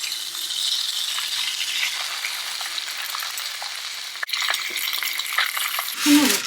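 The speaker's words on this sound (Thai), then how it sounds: "แล้วก็ตอกไข่ลงตรงกลางค่ะ" An egg cracked into a pan over cabbage, steady sizzling and frying throughout with a sharp crack partway through and light rattling of the pan, close and fairly loud, no talking.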